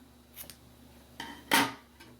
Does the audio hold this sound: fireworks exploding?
no